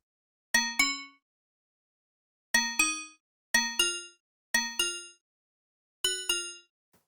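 A bell synth preset on the Arturia SQ80 V software synthesizer plays five bright metallic double strikes, each pair ringing and decaying quickly, separated by silence, clean and close with no voices.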